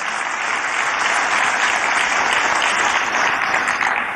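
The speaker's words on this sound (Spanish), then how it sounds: "Un gran aplauso nuevamente para este ejemplo de lucha para todos nosotros" Loud, dense applause fills an assembly hall during a session of the National Constituent Assembly, a large crowd clapping evenly and continuously without talk.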